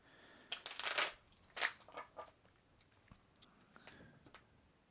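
Tarot cards being shuffled and drawn nearby, a couple of quick riffling bursts followed by softer card slides and taps in a quiet room, no talk.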